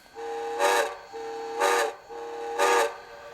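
A Bachmann HO scale New York Central 4-6-4 J3A Hudson model steam locomotive sounds its reverse quill whistle: three short, loud, clear whistle blasts at an even rhythm over a steady background hum.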